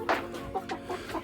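A Leghorn rooster and hens cluck in short bursts nearby, several brief calls across a moment on a poultry farm.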